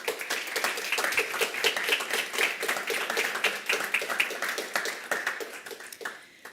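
An audience at an award ceremony applauds the finalists, many individual claps in a brisk, uneven patter that stays fairly quiet and tapers off at the end.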